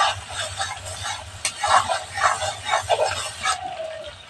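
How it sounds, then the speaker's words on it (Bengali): Spices and green chillies stir-fried in oil for a rohu fish curry: a spatula scrapes and stirs in uneven strokes over a soft sizzle, close and moderately loud, with no talking. "আরও 5 মিনিট ভালো করে মশলাটা কষিয়ে নিয়েছি।"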